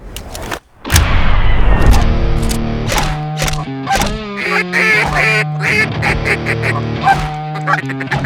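Ducks quack loudly and repeatedly at Lake Texoma, with several birds calling in overlapping, rhythmic honks close by, starting after a brief burst of noise at the opening.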